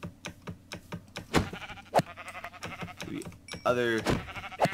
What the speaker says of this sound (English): I'm gonna go kill some sheep